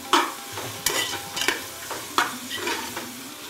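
Mixed vegetables and fresh mint sautéing in a pan for biryani: a soft, steady sizzle broken by sharp, repeated spatula scrapes and stirs at an uneven rhythm, close and clear with no voices.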